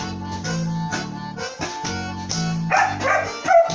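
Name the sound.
dog barking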